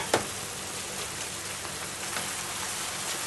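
Taco rice filling of ground meat sizzles in a pan over high heat, a steady soft crackling hiss with a brief clink near the start, quiet and continuous with no talking.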